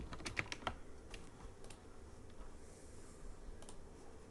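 Light typing on a computer keyboard, a handful of faint quick clicks near the start followed by sparse, soft keystrokes over a quiet background.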